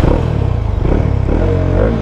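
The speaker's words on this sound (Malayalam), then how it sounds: "അപ്പോൾ ഞാൻ ഓടിക്കുന്നതിനു മുമ്പിൽ നിങ്ങൾക്ക് ഇതിൻ്റെ എക്സോസ്റ്റ് ഒപ്പിച്ചു തരാം" A Bajaj Dominar 400 BS6 motorcycle runs with a loud, close, steady exhaust rumble for the whole stretch, a dense throbbing growl with a slight clatter and no voices.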